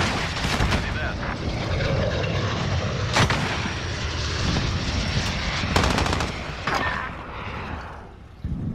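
Loud gunfire and booming cannon bursts from a VTOL jet killstreak in Call of Duty: Modern Warfare, with sharp repeated shots and an engine drone in the background, partly under talk.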